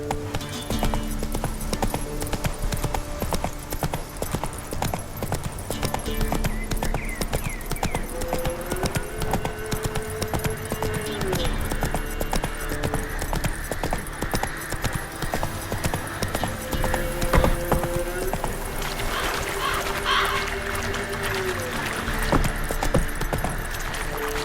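Roach, the horse in The Witcher 3, gallops with steady, rhythmic clip-clop hoofbeats throughout, loud and close, while game music plays underneath.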